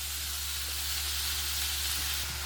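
Steady, loud sizzling of onions frying in a hot pan for pork vindaloo, a continuous crackling hiss with no speech.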